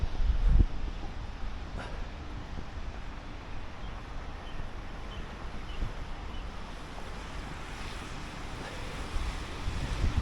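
Strong wind buffeting the microphone on an empty rainy street in Shanghai, a continuous low rumbling roar with gusty fluctuations throughout.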